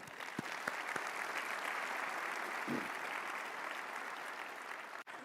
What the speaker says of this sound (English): Let's give another round of applause to Secretary Wright